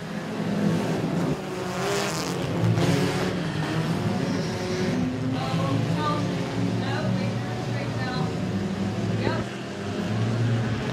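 Compact race cars roaring around the track at Moler Raceway Park during a heat race, a dense continuous engine drone under steady commentary.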